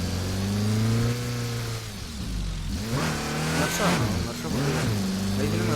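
A car engine in the Roblox mobile open-world roleplay game revs loudly with rising and falling pitch, dips briefly mid-way, then climbs again through repeated up-shifts, steady and close.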